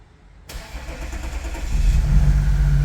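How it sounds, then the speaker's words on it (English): A 2014 Audi SQ5 turbo diesel engine with a misfire on one cylinder cranks abruptly and catches, then settles into a rough, rumbling idle that grows louder and heavier, heard close with no talking. "we got a misfire obviously because we have one cylinder not contributing"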